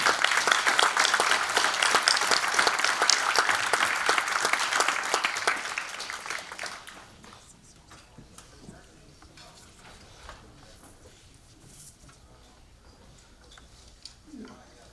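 Loud applause from a crowd at a Veterans Day event for several seconds, then fading out into quiet room noise with scattered small sounds.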